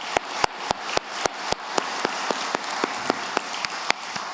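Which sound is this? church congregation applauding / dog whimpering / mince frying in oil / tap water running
church congregation applauding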